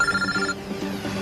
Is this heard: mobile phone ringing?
yes